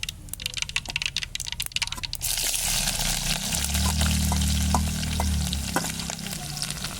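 Onions and chillies drop into hot oil in a pan after some clattering and scraping, then settle into a loud, continuous sizzle close by, with occasional stirring clicks over the frying.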